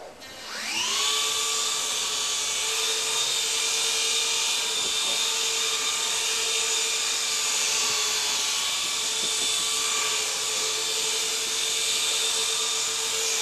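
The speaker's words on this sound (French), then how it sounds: "cet hélicoptère dégage tellement de souffle vers le bas" A Silverlit Picooz Tandem toy helicopter flying indoors gives off a steady, high-pitched electric motor whine with a strong rotor hum. It spins up at the start and then holds a constant loud drone.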